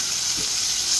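Ketchup sauce frying in a pan sizzles with a steady bright hiss after a little water is poured in, continuous and close for about a second.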